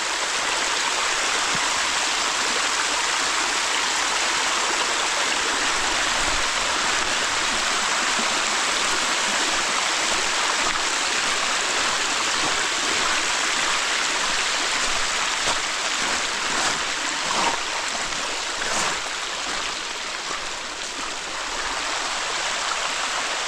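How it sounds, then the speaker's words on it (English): Rushing stream behind a house, a loud, steady wash of churning water that continues unbroken at close range with no voices. "Oh man. That's a lot of water."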